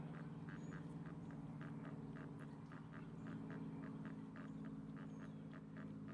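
A Pekin duck squawks in quick repeated bursts, a steady rhythmic series of nasal quacks close by, with a constant low hum running underneath.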